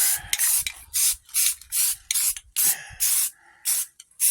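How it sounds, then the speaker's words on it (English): Primer from a spray can hisses onto freshly sanded parts in short, loud repeated bursts of about a third of a second each, separated by brief pauses, with no voices. "now I'm throwing a little bit of primer"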